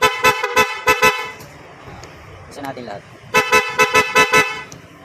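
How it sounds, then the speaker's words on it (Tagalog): A PIAA horn on a Honda ADV 160 motorcycle honks in rapid bursts, a quick series of beeps, then a pause where someone speaks briefly, then another run of short honks. "Yung horn muna, sample lang muna natin yung horn."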